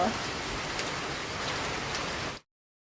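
Steady rain pours down on two people getting soaked outdoors, a dense continuous hiss close around them that runs unbroken and then cuts off abruptly near the end.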